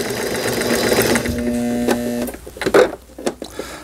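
A Brother PC15 household sewing machine stitches zigzag in a steady whirring run that stops partway through, followed by a few sharp mechanical clicks and knocks.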